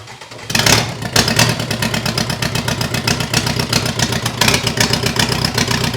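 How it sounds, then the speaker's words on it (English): A 2017 Vauxhall Combo van engine running steadily with an even, throbbing idle, loud and close, with a brief rise in intensity early on. "Ain't nothing wrong with that engine"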